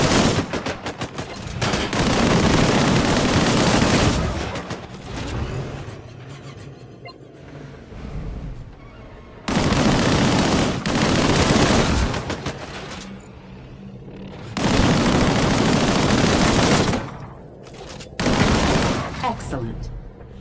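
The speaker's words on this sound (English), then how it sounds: "Engage the enemies ahead using the primary weapon." Sci-fi weapon fire from the Disintegration shooter game, loud bursts of rapid gunshots in several long volleys separated by quieter gaps with low game ambience and mechanical hum.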